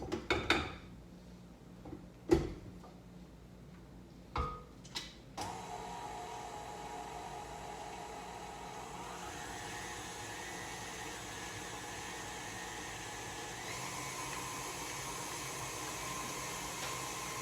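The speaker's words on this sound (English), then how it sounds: "I'm gonna put the mixer back on." After a few sharp clatters of a bowl and utensils, an electric mixer starts up beating homemade Nutter Butter cookie dough, running as a steady close whir that shifts pitch slightly midway and continues to the end.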